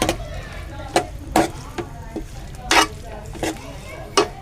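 Turmeric and vegetables sauteing in a pan for a home-style matar paneer, with a steady low sizzle broken by several sharp stirring scrapes of the spatula against the pan, close and fairly loud.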